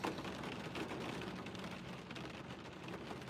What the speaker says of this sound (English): the rain is very soothing